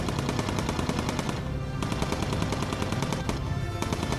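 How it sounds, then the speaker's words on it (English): Bomber guns in the video game Bomber Crew fire automatically at a selected target, dense rapid machine-gun bursts in a steady rattling stream with two brief gaps, loud and alone. "the guns automatically fire when you select the target"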